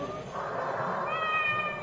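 A cat meows in a kitchen in an old radio drama, one drawn-out, fairly faint call over steady background hiss.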